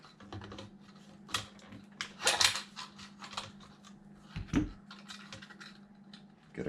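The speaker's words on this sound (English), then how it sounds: "So I'm going to throw a zip tie in here first." A zip tie is cinched on a remote-control car bumper, giving a series of small, dry plastic clicks and ratcheting ticks up close, with a few louder snaps among faint handling noises.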